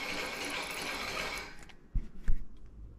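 A THKFISH fishing line spooler clicks and whirs with a mechanical ratcheting sound as it is cranked by hand, first a steady hiss of line and gears, then a few sharper knocks, close up.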